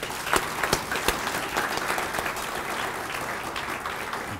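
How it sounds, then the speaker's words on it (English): Applause from guests at a Kiwanis firefighters and heroes gala: a few sharp, close claps stand out at first, then the clapping settles into a steady, moderate roar. "So let's give them a round of applause as well."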